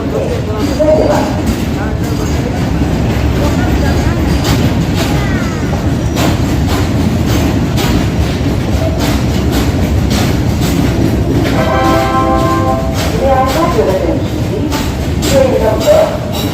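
A WAG 9HC electric locomotive hauls a long coal cargo train out of Varanasi station, giving loud, close, steady rumbling and rhythmic wheel clatter, with brief squeals and a station announcement heard over it.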